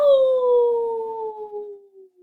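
A single long, sliding howl imitated by voices, loud and close, slowly falling in pitch and fading out.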